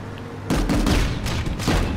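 Gunfire in the sci-fi shooter PlanetSide 2, aimed at an enemy ATV; a dense, loud burst of rapid shots starting after a brief quiet, with a short pause then another volley.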